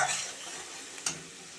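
A paste of ginger, garlic, green chili and onion sizzles softly in a pan, with quiet stirring and one brief sharp scrape of a utensil partway through.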